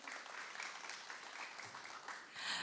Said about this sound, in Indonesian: Berikan tepuk tangannya untuk kita semua.